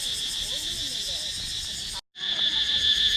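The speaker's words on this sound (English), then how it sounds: "I can hear a lot of crickets up here" Crickets on Kradong Mountain in Buriram shrill in a dense, continuous high chorus in the mountain jungle, loud and close, briefly cut off before resuming.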